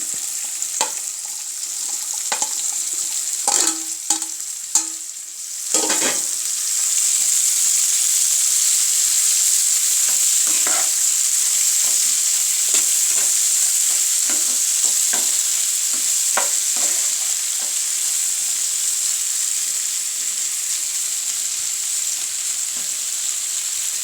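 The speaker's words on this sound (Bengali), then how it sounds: "এবার আমি টমেটো কুচানোটা দিয়ে দিচ্ছি।" Chopped green tomato fries in a pan with a loud, continuous hiss of oil. Several quick spatula clinks and scrapes come in the first seconds, then a steady sizzle with occasional stirring.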